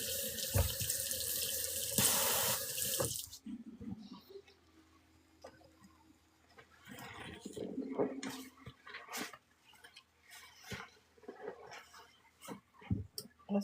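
A sink tap runs water loudly for about three seconds before shutting off, followed by quieter wet squishing and dripping handling sounds, with a voice talking intermittently.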